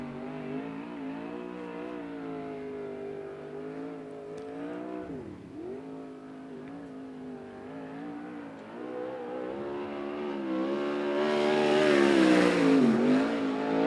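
A USAC Southwest race car at Central Arizona Speedway on a qualifying lap: one close, sustained engine drone that dips briefly, then rises louder and higher as the car accelerates toward the end.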